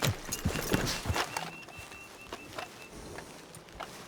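A horse in Red Dead Redemption 2 clip-clops with a few loose hoof strikes, loud at first and then thinning out to quieter, scattered steps, with a brief snort or whinny.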